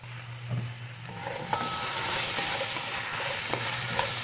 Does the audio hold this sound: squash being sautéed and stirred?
yes